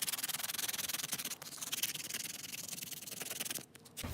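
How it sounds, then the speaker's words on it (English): A wooden 2x4 glide bait is sanded by hand with steady, close, rhythmic rubbing strokes at low volume and a brief pause near the end, with no voices present. "So go ahead and sand this down."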